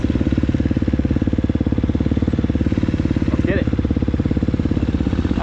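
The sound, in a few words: KTM 250SXF dirt bike engine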